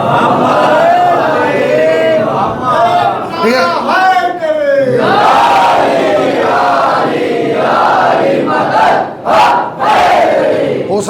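A crowd at a religious majlis gathering chants slogans together in loud, rhythmic unison, voices rising and falling in repeated call-like bursts.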